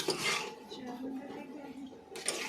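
Rice and spices stirred in a cooking pot, metal utensils clinking and scraping against the pot in light irregular strokes, with talking in the background.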